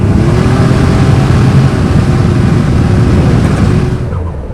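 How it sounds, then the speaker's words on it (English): A 1987 Buick T-Type street car with performance mods and an aftermarket blow-off valve pulls hard under acceleration, its engine a loud, steady drone that holds close and strong before easing off at the very end. "You can hear that aftermarket blow-off valve."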